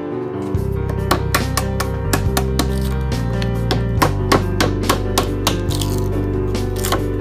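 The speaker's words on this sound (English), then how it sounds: "As you can see, there was a lot of chiseling." Irregular sharp taps of a hammer striking a chisel to remove bark from a log, over a steady low hum, close and fairly loud.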